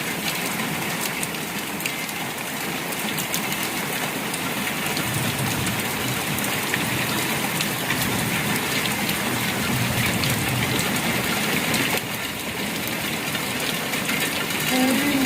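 Heavy rain pours steadily over farm paddy fields in Pakistani Punjab, a loud, dense, continuous hiss of drops that holds unbroken from start to finish with no voices.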